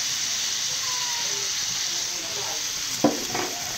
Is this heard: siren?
no